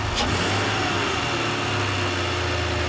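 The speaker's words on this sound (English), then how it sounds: "E la particolarità è che è un 12 cilindri" A Ferrari 12-cylinder engine runs steadily and loud at close range with a deep, constant mechanical drone and a faint higher whine, ending in a brief dropout.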